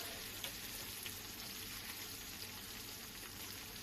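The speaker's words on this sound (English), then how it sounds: "I'm really shallow frying it in olive oil" Fish sizzles softly and steadily while shallow frying in olive oil, a continuous fine crackle with no talking.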